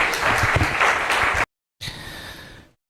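A burst of applause from a church congregation, breaking off abruptly, then a shorter, fainter round of clapping that fades out.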